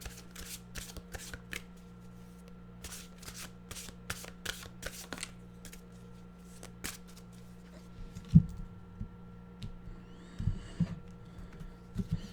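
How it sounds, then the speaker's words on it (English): A deck of mystical wisdom cards is shuffled by hand, making repeated soft riffling bursts and crisp flicks over a low steady hum, with a few louder taps and handling sounds toward the end. "We'll get our mystical wisdom cards out."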